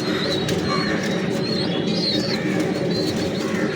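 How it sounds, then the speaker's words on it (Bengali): Kamagar pigeon chicks coo steadily and close by, their soft murmuring calls continuous with a few higher chirps over a constant background hum. "এখন আপনাদের এক পেয়ার কামাগার কবুতরের বাচ্চা দেখাচ্ছি।"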